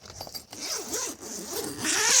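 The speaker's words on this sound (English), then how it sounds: "Look at the zippers on this side." Zippers on a rooftop tent are pulled open in several quick rasping strokes, close and fairly loud, with a longer zip building at the end and no talk.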